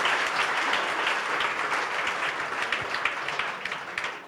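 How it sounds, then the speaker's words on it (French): Audience applause fills a church-style hall, a dense, steady wash of many hands clapping that stays loud throughout and tapers only slightly toward the end. "Est-ce que vous pouvez applaudir Jésus?"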